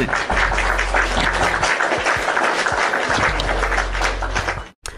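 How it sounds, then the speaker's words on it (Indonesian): Dense, loud crowd applause at a heated religious debate gathering, many hands clapping steadily for about five seconds before cutting off abruptly. "Kita kasih tepuk tangan dulu"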